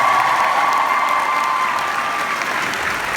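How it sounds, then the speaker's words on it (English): Loud, dense audience applause for the sign language interpreters at a fan event, sustained crowd clapping with faint cheering mixed in. "Big round of applause for our signers"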